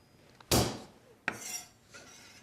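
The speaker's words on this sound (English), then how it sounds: "we're going to start off with some cloves of garlic that we are going to crush" Garlic cloves crushed against a hard surface, two sharp pressing crunches each followed by a brief scraping rasp, close and clear with no voices.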